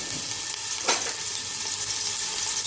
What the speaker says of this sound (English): I'm just adding ginger garlic paste.